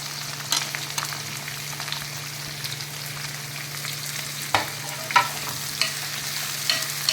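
Onions frying with cumin, curry leaves and chillies in a pan, a soft steady sizzle under a low hum, with a few sharp stirring clinks and scrapes toward the end.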